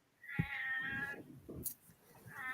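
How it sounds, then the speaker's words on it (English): A cat meows in a long, drawn-out yowl, followed by a second shorter meow, both fairly faint against a quiet room with low voices nearby. "Was that a cat?"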